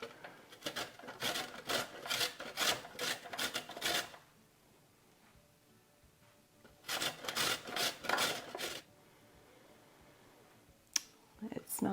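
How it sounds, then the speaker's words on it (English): A winter radish rubbed on a small grater in two bursts of quick, close rasping strokes separated by a quiet pause, followed by a sharp click. "So I've got my grater. I'll start with a small one."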